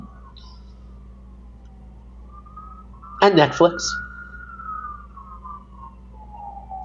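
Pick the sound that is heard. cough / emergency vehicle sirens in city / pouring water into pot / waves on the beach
emergency vehicle sirens in city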